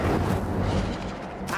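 An Incendio fire spell from the video game Hogwarts Legacy bursts out as a short, loud, booming whoosh that tails off quickly.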